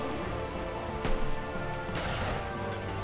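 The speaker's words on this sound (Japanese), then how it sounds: "あ、雨止まない？" Rain falls steadily in the strategy game Taikou Risshiden V, a dense, even hiss of downpour with a couple of brief louder splashes partway through.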